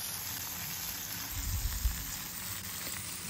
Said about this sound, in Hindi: तो इसको मैं अब फ्राई करूँगी।